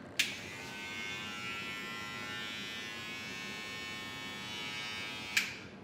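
A Gamma Plus Boosted hair clipper switches on with a click, runs at a steady close buzzing whir for about five seconds, then clicks off, with no talking.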